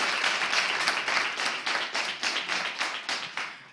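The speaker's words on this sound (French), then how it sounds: "On l'applaudit encore une fois." An audience at a French cultural reading event claps for a few seconds, steady moderate applause from a modest crowd with individual claps audible, no voices on top.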